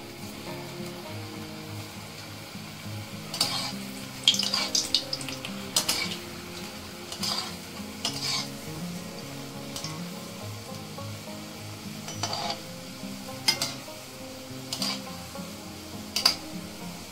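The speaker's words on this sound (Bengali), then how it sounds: "দেখুন লেডিগুলো সব পরপর এভাবে ভেজে নেব।" Sweet potato pantua balls deep-fry in oil with a low bubbling sizzle, punctuated by scattered clinks and taps of a utensil against the pan at irregular intervals; no talking.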